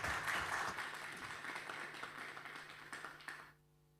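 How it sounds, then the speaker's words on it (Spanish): Audience applause at a seminar, a dense wash of many hands clapping that fills the room, fairly steady and then stopping abruptly near the end, leaving near silence. "Bueno, ahora toca el aplauso."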